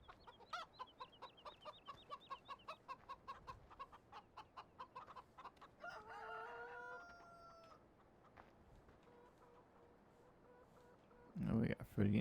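Rooster and chickens on a farm in Farming Simulator 15: a quick run of rhythmic clucks, then a drawn-out crow in the middle, fairly close against a quiet background, with a brief louder burst at the close.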